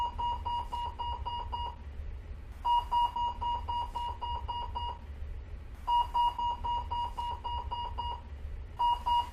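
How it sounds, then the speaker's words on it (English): An electronic train alarm tone on a First Great Western train beeps in repeated bursts, a steady high pitch sounding for about two seconds, pausing briefly, then repeating four times. "If you hear either of these two alarm tones, investigate immediately"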